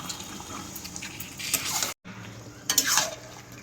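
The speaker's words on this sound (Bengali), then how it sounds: "এই যে দেখো, ধনে পাতা দিয়ে ভালো করে কষিয়ে নিচ্ছি।" Coriander leaf paste sautéing with chicken in a pan, a close wet sizzle with spatula stirring and metal scrapes that swell in two bursts around a brief silent gap, with no talking.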